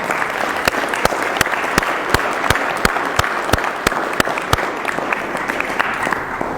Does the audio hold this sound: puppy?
no